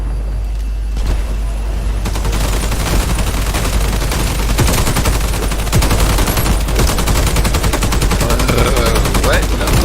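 Dense, continuous gunfire from a shooter video game, rapid bursts and automatic fire layered with booms, loud and sustained throughout without clear pauses.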